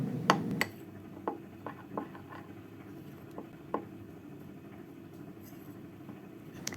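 An egg, cornstarch and milk mixture for custard pie filling stirred in a bowl: soft, scattered clinks and taps of a utensil against the dish, with a few sharper knocks at the start and a quiet background.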